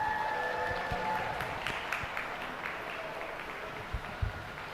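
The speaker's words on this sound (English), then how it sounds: "Let's go ahead and give these guys a little bit more round of applause." Steady applause from a crowd at a youth dairy goat show, a continuous wash of clapping with a few sharper claps near the end, fairly distant.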